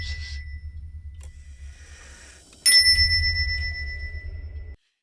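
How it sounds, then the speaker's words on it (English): A clock strikes a bright, ringing chime that sustains and slowly decays, preceded by a softer tone and low hum, then cuts off. "in the dead silence, a clock suddenly chimes and nearly sends him out of his skin"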